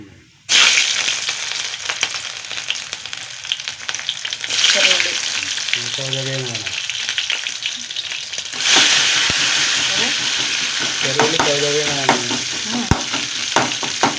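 Shallots and garlic frying in oil, a loud steady sizzle and hiss with stirring, while a voice talks briefly in the middle and again later.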